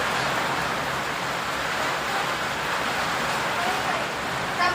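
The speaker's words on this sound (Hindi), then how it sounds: "बारिश तेज़ होने की वजह से आपको आवाज़ में काफ़ी दिक्कत हो रही है" Heavy rain falling steadily outdoors during a workshop session on rewinding a transformer, a dense, even hiss that holds at the same level throughout with no break.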